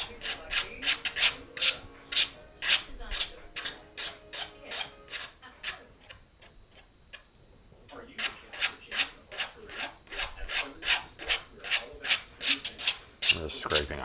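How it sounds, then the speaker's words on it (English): A painting knife scraping oil paint across canvas for glacier ice, giving repeated rhythmic rasping strokes, close and fairly loud, with a quieter pause mid-way before the strokes resume faster. "I'm just scraping ice across."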